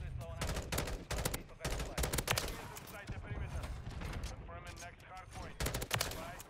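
Rapid bursts of M16 rifle fire from a Modern Warfare 3 match crackle in dense volleys, with heavy, punchy shots repeating across the stretch and a brief lull in the middle before firing resumes.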